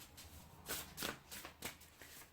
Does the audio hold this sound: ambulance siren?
no